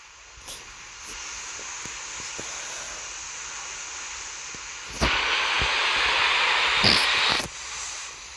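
Steady broadband airliner jet engine roar with a hiss in a flight simulator game, swelling louder midway and dropping near the end, with faint clicks underneath.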